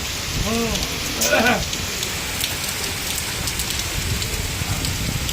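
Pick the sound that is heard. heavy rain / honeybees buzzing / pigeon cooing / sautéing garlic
heavy rain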